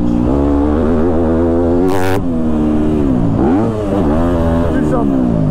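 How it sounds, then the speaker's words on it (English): A loud Yamaha YZ250F four-stroke dirt bike engine roars up close, its pitch climbing and dropping as it revs and winds down under engine braking, with a brief clatter partway through. "because this is a four-stroke, I'm going to try to just use the engine braking"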